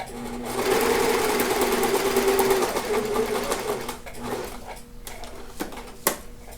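Domestic sewing machine stitching a curved fabric binding, a rapid, even mechanical whirr up close for several seconds that slows and stops, followed by a few faint handling clicks and taps.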